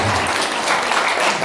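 A church congregation at an Indonesian Christmas service breaks into steady applause, dense and continuous for the whole moment, filling the room.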